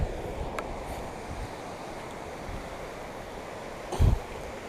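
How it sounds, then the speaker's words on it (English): Sea surf washes in where a river meets the sea at Alligator Pond beach, a continuous wide roar mixed with wind buffeting the microphone and a brief heavy thump near the end. "This is where the river and the sea meet now."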